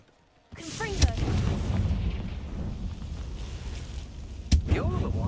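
Confringo blasting spell in Hogwarts Legacy, two sharp booming bursts after a moment of near silence, each followed by a rumbling, crackling decay amid ongoing game ambience.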